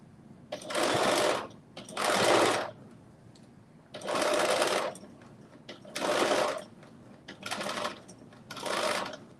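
A sewing machine runs a quick back stitch on a narrow knit hem around a crop top neckline, in six loud, steady bursts of about a second each, separated by short pauses.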